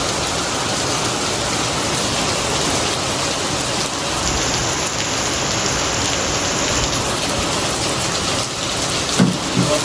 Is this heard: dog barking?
no